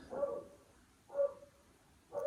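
A dog barks three times in slow succession, faint and distant as if outdoors, with quiet pauses between each bark.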